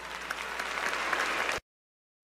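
Audience applause at the BET Awards, a dense, steady roar of clapping that holds for about a second and a half and then cuts off abruptly into silence.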